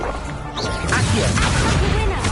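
Game magic in Hogwarts Legacy makes a summoning spell's sharp crash and whooshing pull. It is loud and close and runs for a couple of seconds, with the busy sound of the game behind it.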